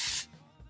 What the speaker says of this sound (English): I'll tilt my head to the side and kind of spray it up underneath